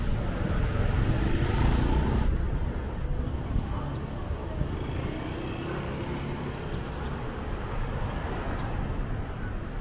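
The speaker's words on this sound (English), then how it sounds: "I'm walking down a relatively busy street in Thailand, and there is a fair amount of traffic noise" Busy street traffic in Thailand rumbles continuously, with passing engines and general road noise around a pedestrian near market stalls, loud at first and then steady.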